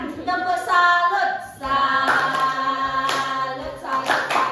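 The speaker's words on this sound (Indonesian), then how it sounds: "Ibu akan contohkan agar kalian semua kompak memberikan tepuk salut kepada Desi." A primary school class performs a 'tepuk salut' clapping routine, sharp group claps landing in a steady rhythm while children's voices chant along loudly throughout.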